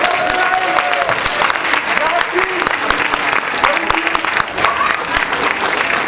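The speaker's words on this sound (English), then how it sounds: "One more round of applause for the students." Audience applauds steadily after a youth orchestra's winter holiday concert, a dense sustained clatter of clapping with a few voices calling out over it.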